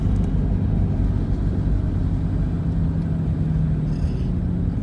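Steady low engine rumble and road noise heard from inside a Pontiac Fiero on the move, a continuous droning hum with no talking over it.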